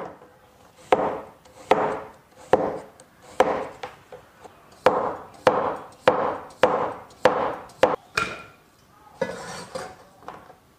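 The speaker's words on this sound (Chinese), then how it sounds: "现在把黄瓜切成片，稍微厚一点" A kitchen knife slices cucumber into thick rounds on a chopping board, making a steady series of close, crisp knocks about every half second with small gaps between, and no talk.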